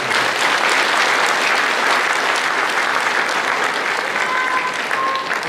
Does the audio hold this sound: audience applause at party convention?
yes